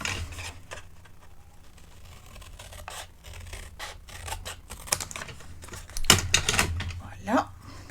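Material for a candle holder being cut with scissors, a series of close, crisp snips and scratches, with a louder burst of cutting near the end and a voice speaking softly at times.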